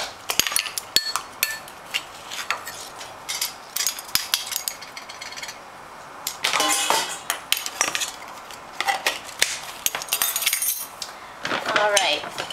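Flourless chocolate cake batter is mixed in a bowl, with close, repeated clinks and scrapes of a utensil against the dish in irregular bursts and a few brief louder clatters, and no speech.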